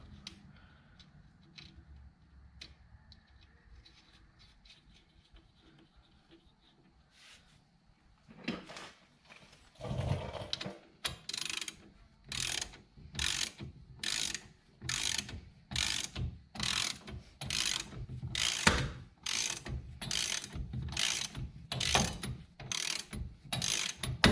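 A torque wrench ratchets in a steady run of close, sharp clicks as it tightens Wilwood brake bolts on a 1988 Camaro Z28. Quieter handling comes first, then the regular ratcheting continues to the end.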